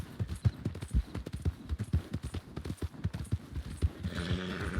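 A horse gallops in a Red Dead roleplay video game, steady rapid hoofbeats drumming close and loud throughout, a brief whinny-like tone near the end.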